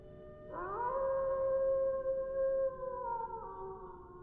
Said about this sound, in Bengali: কুকুরের ঘেউ ঘেউ, বাতাসের গায়ে হাহাকার।